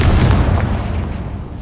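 A Confringo spell explodes in Hogwarts Legacy inside a mine, a loud, deep booming blast with rumbling low end that decays slowly over under two seconds, with no talk.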